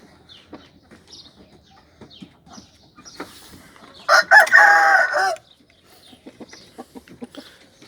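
An Indian breed rooster crows once in a coop, loud and close, a harsh rising call lasting about a second amid faint clucks and rustling.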